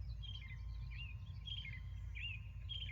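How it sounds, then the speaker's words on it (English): Birds chirp outdoors on a hot day, repeated short high calls in a loose rhythm, fairly distant and soft over a low steady background rumble. "I'm hearing, the birds chirp."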